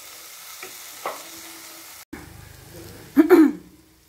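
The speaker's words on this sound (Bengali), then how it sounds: "বাট এখন দিয়ে ভালো করে মশলাগুলো মিশিয়ে নিয়ে আমি কষে নিচ্ছি।" Spice masala being sautéed in a pan, a soft sizzle broken by a few sharp clinks and scrapes of stirring, with a louder burst of sizzling near the end.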